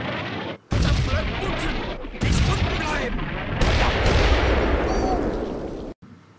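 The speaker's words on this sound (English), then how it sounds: "As the first artillery strike on the centre bunker failed, I call in a second strike." Artillery barrage strikes a bunker in the Combat Mission: Fortress Italy war game, loud rumbling explosions and sustained crackling blasts arriving in several bursts with brief quiet gaps between.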